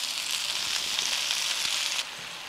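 Mango pieces with skin stir frying in spice oil in a pan, a close, steady hiss of sizzling that drops in loudness near the end, with no talking.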